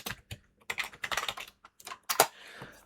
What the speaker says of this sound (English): Let me just type the rule in.